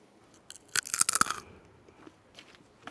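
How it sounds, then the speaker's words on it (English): A potato chip crunches close to the microphone in a quiet room, a brief cluster of crisp cracks and crackles lasting about a second, then a few faint trailing crumbles. "file 40 is a chip. Being crunched. Potato chip ASMR."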